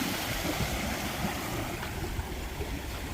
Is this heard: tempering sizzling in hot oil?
no